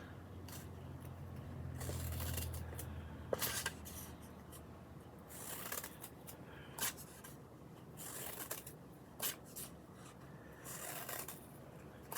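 Repeated crisp snips and rustles of paper being cut with scissors, irregular and close, with soft handling noise between cuts.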